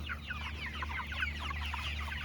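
Several pastured chickens forage on grass in the morning, clucking and murmuring softly nearby in quick, overlapping bursts over a low steady hum.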